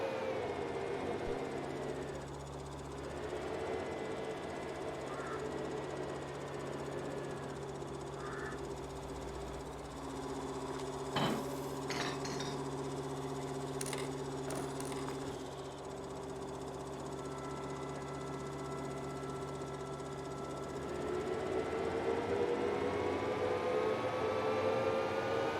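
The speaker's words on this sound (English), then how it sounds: "let's get some mowing done." Tractor mowing grass in Farming Simulator 22, an electric farm setup: a steady droning motor hum with whining tonal layers runs throughout, rising in pitch toward the end, with a few brief clicks midway and no talk.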